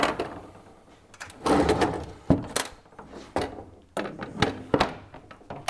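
A swivel dropping into the slotted table brackets of a tapo-fix S-Series pasting machine, heard as several hard metallic clunks and knocks at irregular moments, close-up with rattling handling noise between.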